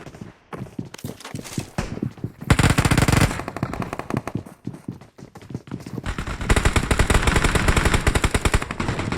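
Gunfire in a battle royale mobile game fight with a couple of guns in hand: dense bursts of rapid automatic fire alternating with single shots, loud and continuous across the whole stretch, with no talking.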